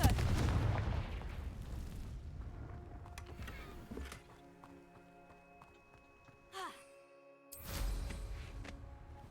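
In Hogwarts Legacy the Confringo fire spell goes off, a loud rumbling blast at the start that fades into a quiet hum, followed by a couple of later sharp bursts and a whoosh.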